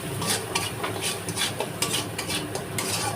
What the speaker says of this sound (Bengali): দেখতে পাচ্ছ সব মশলাগুলোকে আমি ভালো করে কষিয়ে নেব।